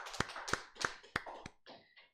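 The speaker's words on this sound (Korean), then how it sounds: "하나님께 영광의 박수 돌려드리겠습니다." Short burst of hand clapping from a church congregation at a Sunday worship service, a few sharp claps standing out over softer scattered applause, then fading within about two seconds.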